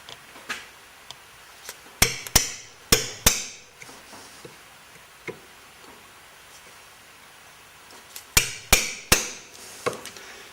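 A hammer strikes a punch into a wooden wheel part clamped in a vise, landing sharp, ringing blows in two quick bursts of about four hits each, with a few lighter taps between them.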